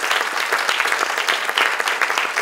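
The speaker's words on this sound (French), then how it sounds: "c'est vous qui pouvez applaudir." An audience at a Téléthon 2015 fundraising conference claps steadily, producing a dense, even wash of applause that stays loud throughout, with no talking.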